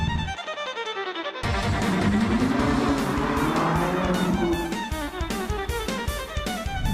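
A powerful car engine revs up and climbs in pitch through a loud, rasping exhaust, holding high before dropping into rhythmic bursts; above 3500 rpm the outer exhaust pipes go silent and only the middle pipe works.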